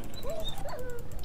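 A dog in the Minecraft video game whimpers in a multiplayer PvP survival match, a couple of short high whining cries over a busy game background, fairly close.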